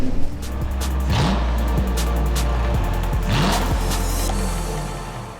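A Speedway motorcycle runs on a track in bad weather, its engine rising and falling in repeated revving sweeps as it passes at moderate distance, loud and continuous.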